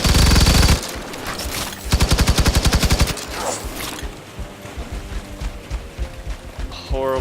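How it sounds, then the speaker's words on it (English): Rapid automatic gunfire from the Firefall video game, with a dense opening burst, then a steady run of evenly spaced shots, then scattered distant firing and clatter under faint murmuring. "All I hear is bullets."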